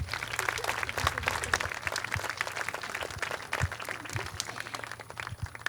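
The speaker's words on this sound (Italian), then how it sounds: "un bel applauso per lui" Audience applause at an outdoor fashion show, a steady wash of scattered clapping from a moderate distance with no one speaking over it.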